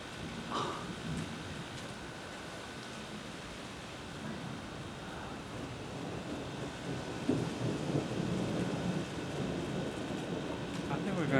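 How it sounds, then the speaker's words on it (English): A summer thunderstorm over Chestertown fills the air with steady broadband rain hiss and low rolling thunder, the rumble swelling louder toward the end; no clear talk is present. "I think we're going to get a good storm today."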